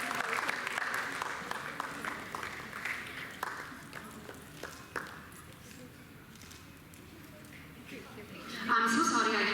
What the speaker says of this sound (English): So if you all can give a round of applause to all these girls.